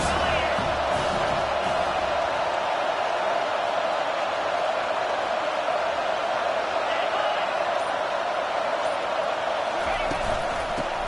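A large stadium crowd at a Minnesota Gophers versus Penn State college football game roars in a dense, continuous wall of cheering that holds steady from start to finish.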